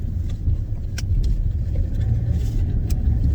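A car moving through traffic gives a steady low rumble of engine and road noise from inside, with a few faint clicks and passing sounds, no one speaking.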